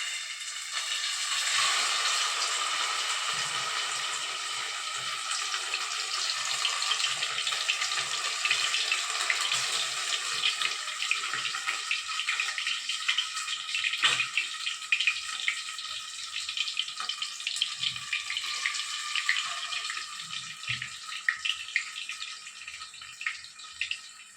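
Fish fries in a hot pan with a steady, close hiss of oil that swells early and holds, broken by faint pops and crackles, with no talking.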